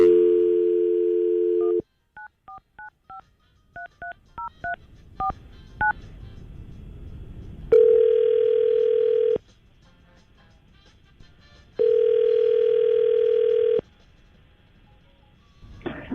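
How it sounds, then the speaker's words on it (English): A telephone call is placed from a radio studio: a dial tone, then a quick series of touch-tone keypad beeps, followed by two long ringback tones separated by silence. "let's try to call Emily right now and see if we can get her on the phone"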